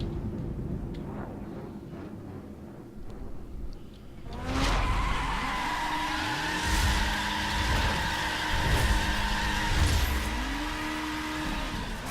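A Subaru BRZ in The Crew racing game skids with drawn-out tire squeals over a droning engine on a Las Vegas track, the screeching swelling in repeated waves after a quieter stretch at the start.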